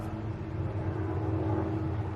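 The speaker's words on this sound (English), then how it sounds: "What's that do I hear? Ah, helicopter." Distant low rotor drone of a helicopter passing overhead, faint and steady with a soft rumbling texture.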